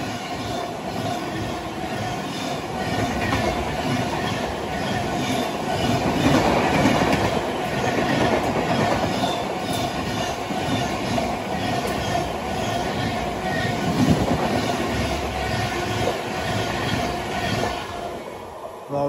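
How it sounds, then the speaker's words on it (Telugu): The Prashanti Express passes alongside a halted train, a continuous loud rumble with rhythmic wheel clatter and faint squeals building and easing over about nineteen seconds, with no talk. "ప్రశాంతి ఎక్స్ప్రెస్ మనల్ని 2 సార్లు ఓవర్టేక్ చేసింది ఈరోజు."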